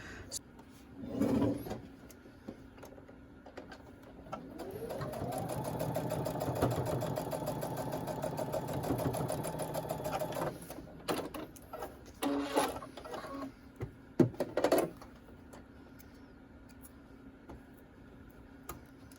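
A sewing machine bastes the fabric pockets of a wrist sling, running steadily for about six seconds after some handling knocks, followed by more clicks and fabric shuffling.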